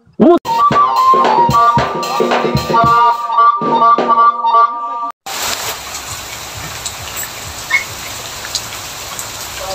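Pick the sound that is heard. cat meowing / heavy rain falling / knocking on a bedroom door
heavy rain falling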